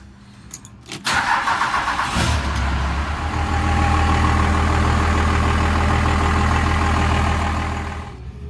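A vehicle engine on a fleet truck, just cleaned and suspected of leaking, cranks briefly, catches, and settles into a loud, steady idle that runs for several seconds close by, with no talk.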